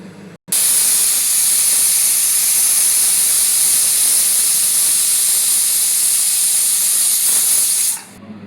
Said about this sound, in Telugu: దెన్ లిడ్ పెట్టేసి విజిల్ వచ్చే వరకు వెయిట్ చేద్దాం.